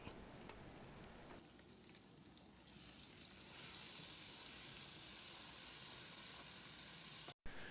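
Onions and ginger garlic paste frying in a pan for a crab fry, a steady close hiss of sizzling oil that swells a little louder midway, with no voices.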